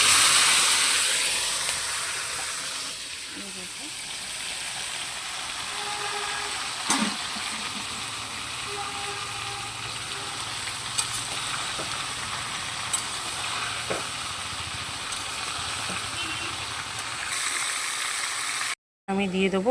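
Jujubes added to hot oil with panch phoron and dried red chillies for pickle, frying with a continuous hiss and sizzle, a few sharp clicks and spoon taps scattered throughout, close by.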